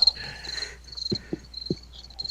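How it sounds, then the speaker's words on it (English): Crickets chirp in a continuous high trill close by. A few low thumps sound underneath. "Might stir up the parrot with that cricket sound there."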